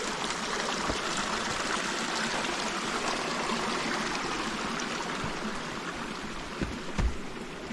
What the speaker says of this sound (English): There'll be a natural spring coming up out of there.